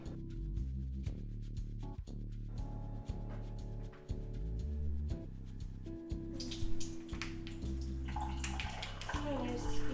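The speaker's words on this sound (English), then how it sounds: "you drain it into a sink" Water drains into a kitchen sink after being pressed from tofu, a steady rushing, splashing flow that grows louder toward the end, heard over a continuous bed of tonal background sound.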